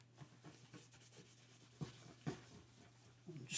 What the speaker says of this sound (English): I'm just going to rub that in and then leave it for a minute to soak in